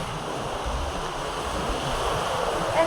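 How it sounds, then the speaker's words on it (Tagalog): Ocean waves meeting and crashing make a continuous rushing surf, fairly close and moderately loud, with wind buffeting the microphone and a slightly stronger surge near the end; no one speaks. "nagsasalubong ang alon dito mga kapain"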